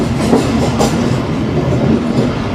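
A train rumbles loudly past the Jaffar Express standing on a side line at a Pakistani railway station, a continuous close roar of wheels and carriages with faint rhythmic clatter.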